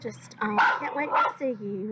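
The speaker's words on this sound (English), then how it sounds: "And you can hear my dogs in the background." Dogs bark and yip in the background, several sharp barks under and between a person's close speech.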